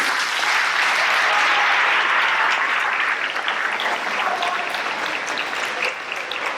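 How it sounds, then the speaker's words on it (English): Audience at an eighth-grade school awards program applauding students, sustained and fairly loud clapping throughout, easing slightly toward the end. "Round of applause for these students."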